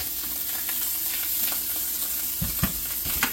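Morels frying in browned butter give a steady, close sizzle, with a few sharper pops and spits rising near the end.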